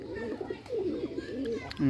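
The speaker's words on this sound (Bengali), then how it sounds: "দেখুন এই যে রাজশাহী গিরিবাজে ডাকাডাকি করতেছে কি সুন্দরভাবে" Rajshahi Giribaz pigeons cooing in soft, repeated throaty calls in a loft, fairly close, with a brief louder burst near the end.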